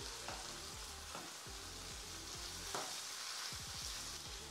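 Nigerian peppered gizdodo of gizzards and plantain with coconut milk fries in a pan while being stirred, a steady close sizzle with repeated rhythmic scraping strokes and no talking.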